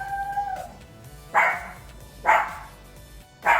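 A dog barks outside three times at a steady spacing, each sharp bark loud and near against a quiet indoor background.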